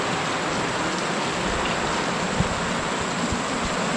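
A heavy downpour roars steadily, dense rain drumming on surfaces with a few louder drips and knocks standing out nearby.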